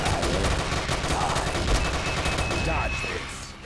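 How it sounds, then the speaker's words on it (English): Sustained machine gun fire in the Frontline Commando Rivals mobile shooter game at BreakWater, a dense continuous burst of rapid shots lasting several seconds and fading slightly at the end. "They use machine guns to tear through your cover."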